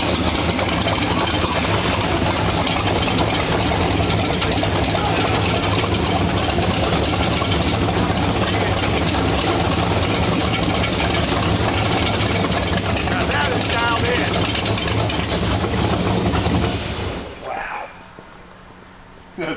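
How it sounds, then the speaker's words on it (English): The Hot Wheels Twin Mill full-size show car's engine runs loud and steady at a rumbling idle, close by, holding for about seventeen seconds before shutting off into quiet. "Well, let's hear it run."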